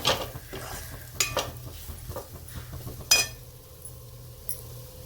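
Crushed roasted peanuts stirred in a pan for a ridge gourd curry: a few scraping and clinking strokes of a spoon against the pan, with soft rustling between, close and fairly quiet.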